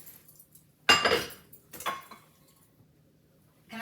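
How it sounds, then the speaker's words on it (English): Three 9-inch metal cake pans clatter and clink against each other as they are handled in a home kitchen, two sharp bursts of metallic rattling close by, with another brief clank at the end. "Okay, so we've got 3 9-inch cake pans."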